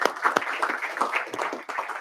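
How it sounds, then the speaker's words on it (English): Brief burst of applause from people in a state House Health Committee hearing room, dense and steady clapping over about two seconds. "Let's give you a round of applause."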